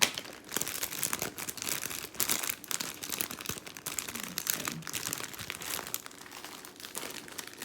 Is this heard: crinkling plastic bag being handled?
yes